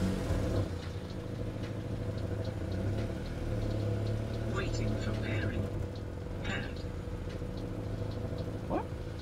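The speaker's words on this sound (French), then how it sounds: "Ça tient le ralenti normal." A Honda CRX EE8 with a VTEC engine idles steadily, a continuous low mechanical hum with faint intermittent clicks and rattles, close by and alone with no speech.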